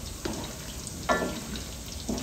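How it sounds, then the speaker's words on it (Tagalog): Fishballs frying in oil at a Filipino street food stall, a steady crackling sizzle with a few louder bursts as they are stirred, close and alone. "Pag nagpiprito po yan ng fishball"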